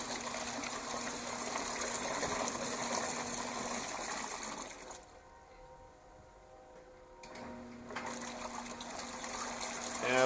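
Water runs and gushes steadily inside a Giantex portable clothes washer during a rinse, loud and continuous, dropping to a quieter lull midway before the flow resumes at full strength.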